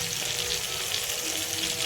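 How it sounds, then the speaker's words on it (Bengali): Tomato and onion frying in a pan for chickpea ghugni, a continuous close hiss and sizzle of soft, broad crackle, steady throughout with no voices. "টমেটোর পেঁয়াজ ভালো করে ভাজা হয়ে গেছে"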